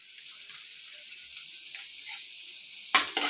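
Garlic, ginger and chilli sautéing in about five spoons of hot oil, a steady soft sizzle holding on throughout, with a couple of louder clatters of stirring near the end.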